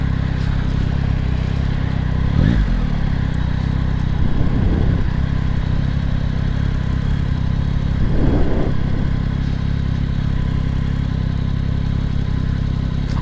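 Yamaha MT-09 motorcycle with its stock exhaust, engine running steadily with a low, continuous drone and a few brief swells in revs, no talking.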